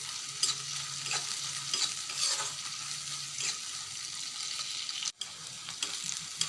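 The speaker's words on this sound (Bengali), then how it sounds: "এই যে পেঁয়াজটা আমার হালকা করে ভেজে নেওয়া হয়ে গেছে" Onion and chopped garlic fry in a pan while being stirred, giving a steady close sizzle broken by soft scraping strokes and a brief pan knock, with no voice.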